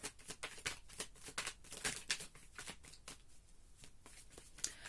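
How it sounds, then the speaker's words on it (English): Tarot cards are shuffled by hand at close range, a quiet run of crisp riffling flicks and soft slaps in an uneven rhythm, with no talking. "I want to put the cards back, and I want to focus more on pulling the cards"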